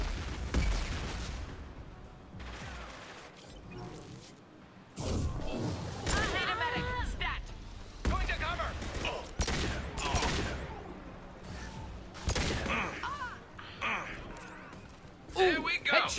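Video game gunfire from Mass Effect 2 on PC, with loud repeated shots, impacts and bursts of combat effects across the scene, while someone talks over the action.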